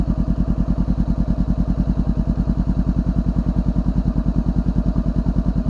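A motorcycle fitted with a new exhaust idles close by, loud and steady, its rapid, even pulses thumping without a break and no one speaking.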